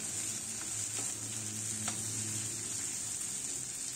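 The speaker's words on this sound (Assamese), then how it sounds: "ভালকে ভাজি লব তেলত" Vegetables fry in hot oil for a fusilli pasta dish, giving a steady, soft sizzle with a few faint clicks of utensils, heard alone without speech.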